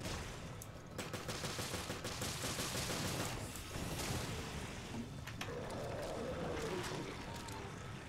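Dense bursts of gunfire in Resident Evil Revelations, rapid overlapping shots forming a sustained, loud volley with a game soundscape behind it.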